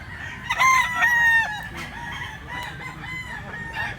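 A gamecock, a green-legged talisayon fighting rooster offered for sale in Cebu, lets out one loud, close crow early on, followed by softer clucks and murmurs beneath faint background noise.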